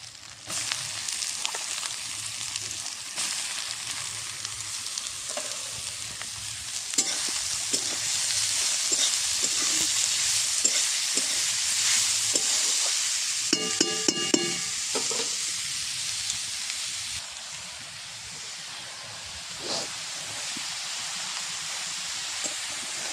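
Cabbage and carrot stir-fry in a hot pan, a continuous bright sizzle with a spatula scraping and knocking against the metal now and then, close and steady for the whole stretch, with no talking.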